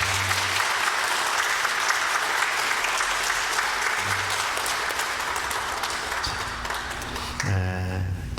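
A church congregation at a Sunday service claps steadily together, a dense wash of applause filling the room for several seconds, with a brief tone sounding near the end.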